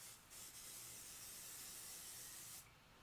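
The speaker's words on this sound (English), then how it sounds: "I'm spraying the ends only, not the middle" A spray bottle mists the ends of quilting fabric in one long, steady hiss that starts after a brief puff and cuts off sharply near the end, close and fairly loud.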